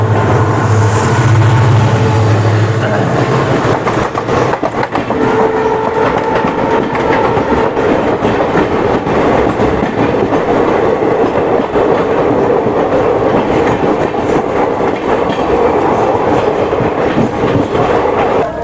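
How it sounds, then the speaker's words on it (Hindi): The Kisan Express, Bathinda to Delhi train 14723, rolls past loud and close on the rails, a continuous heavy rumble with rhythmic wheel clatter lasting throughout. "ये आगे किसान एक्सप्रेस 14723 बठिंडा से दिल्ली के बीच चलने वाली किसान एक्सप्रेस।"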